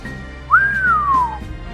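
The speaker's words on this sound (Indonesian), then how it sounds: "Si pemuda keluarkan suara bersiul." A young man whistles a single clear note that swoops up and then slides slowly downward, about a second long, loud and close in an otherwise quiet setting.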